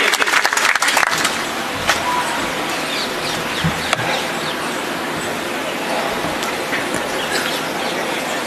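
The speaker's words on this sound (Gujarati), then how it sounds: "રાજ્યસભા સાંસદ માનનીય સંજયસિંહને આપની જોરદાર તાળીઓ સાથે હું આમંત્રિત કરું છું." Loud crowd applause fills a political rally in Gujarat as a Rajya Sabha MP is welcomed on stage, a dense, steady clapping roar running throughout with a few sharper peaks near the start.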